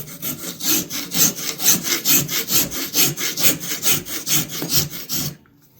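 A knife handle being shaped with a hand file, a quick steady run of about twenty rasping back-and-forth strokes, close and alone, stopping abruptly at the end.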